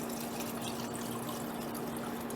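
Chicken broth pours steadily into a pot in a home kitchen, a continuous close liquid rush with an even level and no talk over it.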